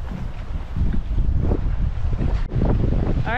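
Strong gusting wind, 15 to 20 knots with gusts to 30, across a lake in the Boundary Waters wilderness, buffeting the microphone in loud rushing surges with lapping water beneath.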